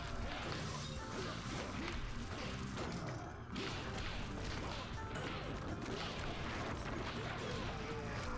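Combat in the video game One Finger Death Punch, with enemies smashed through objects: a dense, loud stream of crashing, whacking impacts and swooshes under continuous game music, with a brief dip near the middle.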